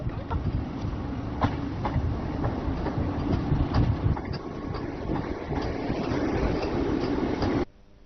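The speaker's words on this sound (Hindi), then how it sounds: "कटरा संगलदानी से ऊपर वंदे भारत रेल के ट्रायल रन आज किए गए।" A Vande Bharat train makes a trial run on the line above Katra, a close, loud rumble with regular clickety-clack beats of the wheels running throughout before cutting off abruptly near the end.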